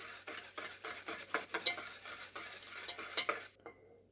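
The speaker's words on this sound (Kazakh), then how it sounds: "Бір шай қасық ас содасын салып, жақсылап араластырып аламыз." A spoon stirs a kefir batter with baking soda in a bowl, producing a rapid, rhythmic series of close wet scraping swishes and clinks that stop abruptly, with no talking.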